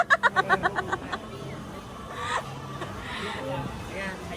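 A chicken clucks in a quick, close run of about eight loud pulses, then trails off while people talk in Malay over road and background noise outdoors.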